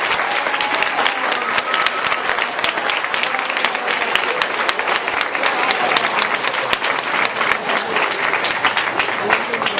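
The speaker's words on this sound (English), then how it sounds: "Let us now give these outstanding students a round of applause." A school audience at an 8th grade graduation applauds outstanding students, dense continuous clapping from a large crowd filling the whole stretch at a steady, fairly loud level.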